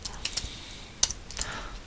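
Keystrokes on a computer keyboard while entering a layer name in After Effects, a short irregular burst of crisp, close clicks with one sharper tap in the middle, no voice.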